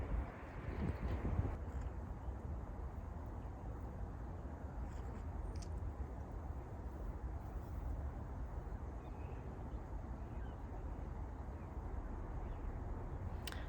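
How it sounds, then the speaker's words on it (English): Steady low wind rumble buffeting the microphone outdoors at an allotment in November, continuous and fairly loud throughout, with no voices. "The wind's a little bit windy today"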